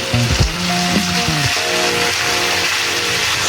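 Cooked rice, soy sauce and vegetables sizzle together in a hot pan with a steady, close frying hiss, with a few clinks and tonal rattles early on.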